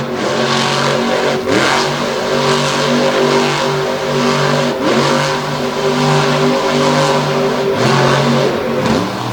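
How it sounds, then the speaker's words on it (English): A monster truck engine roars loud and close, revving steadily as the truck spins donuts at a Lake Erie arena show, with periodic surges in pitch and a dense, continuous rumble throughout. "He's doing some donuts, though"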